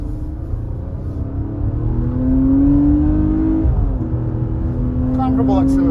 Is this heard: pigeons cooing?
no